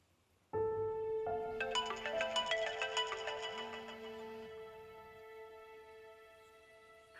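A telephone ringtone plays for an incoming call, a loud, bright electronic melody that starts abruptly and rings continuously for several seconds before fading slightly.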